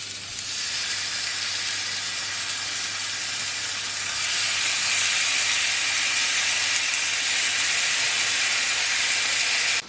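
Bacon pieces frying in a pan while burgers are cooked, a steady loud broadband sizzle and hiss that swells slightly partway through and continues without pause.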